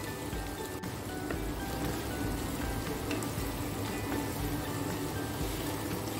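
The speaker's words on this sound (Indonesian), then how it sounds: "Sekarang saya masukkan orek telurnya." Scrambled egg tipped into a frying pan with green beans and green chillies sizzles in a steady, close, rain-like crackle that continues evenly throughout.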